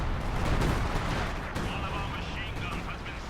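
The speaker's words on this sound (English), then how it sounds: "You got assault artillery being called in." Assault artillery fire in the video game Company of Heroes 2, a dense rumble of booming impacts and blasts filling the clip, with talking mixed in.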